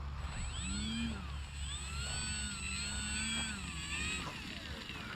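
The electric motor of an E-flite Maule M-7 scale RC plane whines faintly at a distance outdoors, its pitch rising and falling as the plane flies past over low background rumble.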